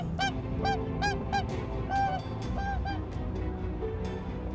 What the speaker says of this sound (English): Their name came from the loud whooping calls which they make during courtship displays